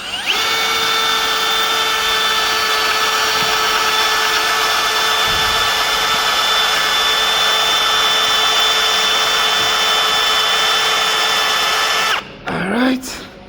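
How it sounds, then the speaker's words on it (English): Power drill boring into a broken bolt, one long loud steady whine at constant speed for about twelve seconds, then it winds down and stops with a brief spin-down squeal. "Alright, so we're going to drill."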